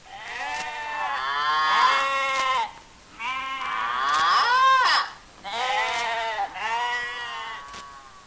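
White lambs on a farm bleat in three long, loud, wavering cries separated by short pauses, close and clear, heard alone without talk.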